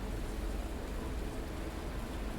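Rain falls in the Fernbus Simulator bus driving game on a foggy trip in France, a steady, even hiss of downpour heard nearby with no voices.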